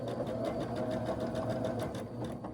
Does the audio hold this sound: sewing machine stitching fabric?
yes